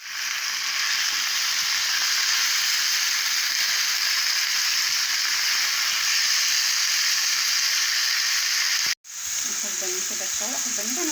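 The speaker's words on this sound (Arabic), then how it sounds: "حطيت حته سمنه وهنزل بالبانيه، كنت مقطعاه ومتبلاه، هنزل بيه يتشوح عشان احطه فوق البيتزا" A seasoned breaded cutlet sizzles in hot ghee in a pan, giving a steady, loud frying hiss that cuts out briefly near the end, with faint clatter as it resumes.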